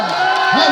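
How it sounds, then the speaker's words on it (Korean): Festival audience at an outdoor seafood festival performance in Gijang cheering in a short, dense roar of shouts and whoops, loud and sustained. "함성입니다."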